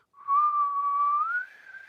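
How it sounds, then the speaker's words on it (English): A person whistles a single sustained tone, rising slightly in pitch near the end before tapering off into a fainter, breathy continuation; close and clear with no talking. "I'm a actually terrible whistler."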